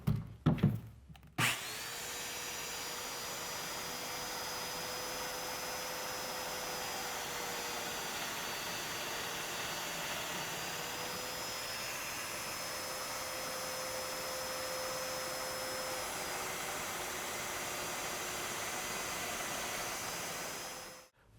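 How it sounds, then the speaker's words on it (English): A Domino joiner cuts mortises in cabinet wood, starting with a few quick bumps and clicks, then a steady high whine with a constant dust-extraction roar lasting nearly twenty seconds before it winds down. "Now I'll just use my domino to cut the corresponding mortises."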